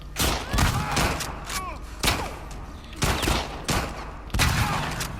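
Dense bursts of heavy gunfire in The Last of Us Part II ring out in rapid volleys, loud and close, with sharp cracks and echoing reports repeating every second or so.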